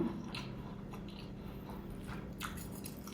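Soft, close chewing of dry minced beef basil stir-fry with chili sauce, a few moist bites and squishes over faint background hum, quiet and without talking.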